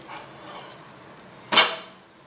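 A single sharp clatter as a utensil flips a green corn snack in a pan on the stove, cooked without oil; a quiet kitchen hum leads in, then one distinct metallic scrape-knock near the end.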